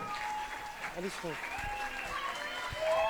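At a gala, an audience applauds the DDS Afro dance group, a crowd's clapping mixed with shouts and cheers and voices rising over it.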